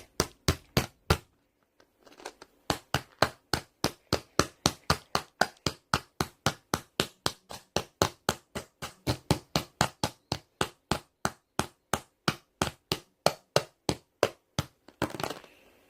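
A hammer taps small plastic Deform building blocks in a fast, even series of dozens of sharp, close knocks, broken by a short pause near the start and a brief cluster at the end.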